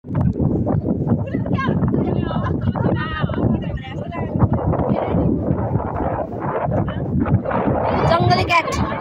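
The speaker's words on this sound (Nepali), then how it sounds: "कस्तो हावा" Wind blows outdoors, buffeting the microphone in a loud continuous rush while people talk throughout.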